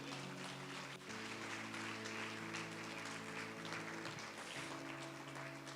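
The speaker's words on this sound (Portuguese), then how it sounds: "Você pode aplaudir Jesus" A church congregation applauds during a sermon, a faint, steady wash of clapping running the whole time beneath sustained organ or keyboard tones.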